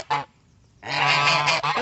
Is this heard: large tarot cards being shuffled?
no